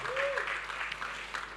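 A church congregation claps together at an online Sunday worship service, a brief burst of applause heard under a voice that carries through the clapping.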